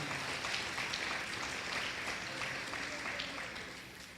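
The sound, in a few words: congregation applauding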